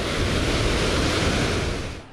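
A huge waterfall roars as a dense, steady broadband rush, loud and continuous, beginning to fade at the very end.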